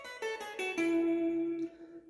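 A few quick plucked guitar notes step through a short scale, the last one ringing out clearly for nearly a second before stopping, played alone and fairly quietly.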